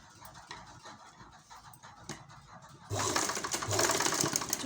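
A sewing machine stitching the back part of a double blouse starts up partway through, a close, loud, steady whirring run of stitches following a quieter stretch of soft room noise.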